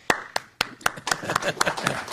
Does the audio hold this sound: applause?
yes